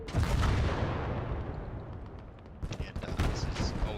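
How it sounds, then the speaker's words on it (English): Heavy artillery turret fire in the World War II strategy game Gates of Hell: Ostfront, with dense rumbling blasts and crackling gunfire that are loudest at the start and fade slightly before a fresh burst of sharp, close shots. "You can sometimes get the turrets to fire on the enemy artillery."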